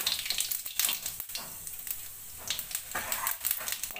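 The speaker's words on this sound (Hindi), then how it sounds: "और इसको अब छौंकती हूँ। तो उससे सबसे पहले डालूंगी इसमें जीरा" Cumin seeds are dropped into hot oil for tempering, and a continuous crackling sizzle with bright spattering pops comes from close by over about four seconds.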